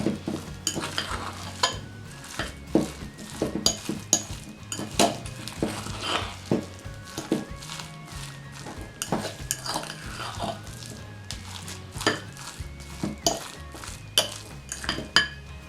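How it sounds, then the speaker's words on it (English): A fork scrapes and clinks steadily against a bowl while mixing crab rangoon stuffing, with repeated sharp metallic taps and stirring rubs, close and clear with no talking. "Mix with help of fork until combined well."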